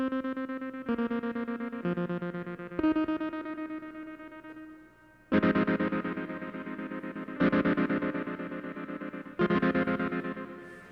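Synthesizer chords and notes run through a cheap reverb pedal, each sustained harmonic tone washing into a lingering reverberant tail. Several separate chord stabs follow one another, loud and without voices.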